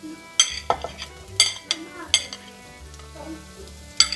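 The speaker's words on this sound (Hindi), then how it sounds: "अब इसमें ज़ुकीनी ऐड करेंगे कटी हुई" Chopped zucchini goes into a pot of lightly cooked carrots for chicken and vegetable soup, bringing a steady sizzle broken by several sharp metallic clinks and scrapes of a spoon against the pot, heard up close.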